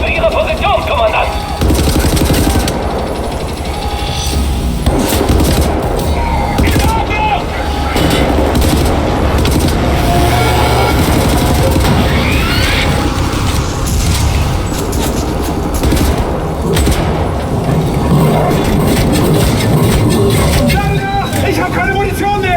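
Gunfire from shooting Nazis in the video game Wolfenstein: The New Order: dense, loud bursts of shots and booms fill the scene almost continuously, with shouted voices and battle noise mixed in.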